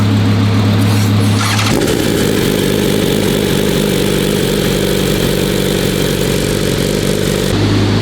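A 1,500-horsepower car engine warms up with a loud, rough idle, then catches into a heavier, deeper rumble that holds steady before easing back near the end, close and dominant with no speech.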